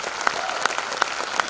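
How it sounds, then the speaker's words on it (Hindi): An audience at a company celebration event claps loudly, a dense burst of applause with a few sharper claps standing out over the steady patter. "जोरदार तालियां।"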